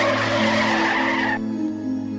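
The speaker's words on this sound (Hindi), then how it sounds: "माया के पापा गाड़ी चलाते चलाते अचानक से गाड़ी के ब्रेक लगाते हैं" In a horror cartoon, a car brakes suddenly on a highway, its tires squealing and skidding loudly for over a second before cutting off to a lower rumbling idle.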